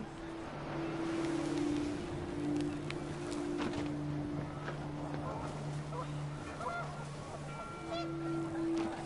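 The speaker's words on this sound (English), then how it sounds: "Wind picked up, and panicked geese appeared and quickly went." Panicked geese honk repeatedly in What Remains of Edith Finch, a steady stream of faint calls over wind and background ambience.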